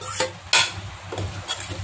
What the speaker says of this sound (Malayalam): ഈ ചിക്കൻ ഞാൻ ഇതിലേക്ക് ഇട്ട് കൊടുക്കുന്നത്.